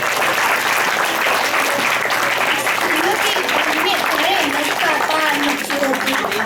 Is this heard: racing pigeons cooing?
no